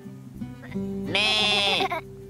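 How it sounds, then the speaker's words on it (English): A sheep bleats once on a mountainside, a near, wavering cry of about a second, with quieter low animal sounds just before it. "There are some sheep nibbling at the grass."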